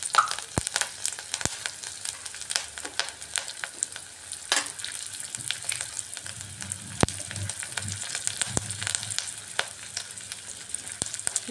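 Black cumin seeds and slit green chilies sizzle steadily in hot oil, a continuous crackling hiss with scattered sharp pops and occasional stirring, close and alone without talk.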